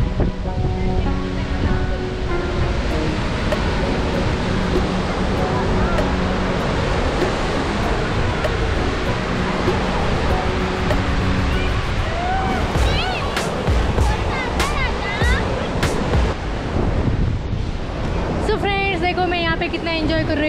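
Ocean surf rolling onto the flat, open shore of Vagator Beach in Goa, a steady continuous wash of breaking waves with wind noise, while someone talks over it throughout.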